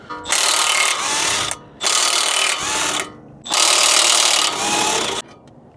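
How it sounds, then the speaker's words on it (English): A ratchet wrench loosens the 17 mm nuts and bolt on the ball joint of an Acura RDX lower control arm, clicking rapidly in three loud bursts of steady ratcheting separated by short pauses. "you have 2 nuts and 1 bolt holding it in, which are 17 millimeter. So we're gonna go ahead and remove these"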